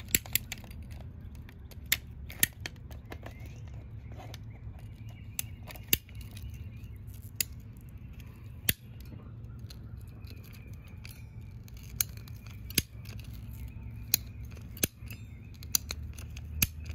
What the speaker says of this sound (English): So I also bought these PVC cutters from Lowe's.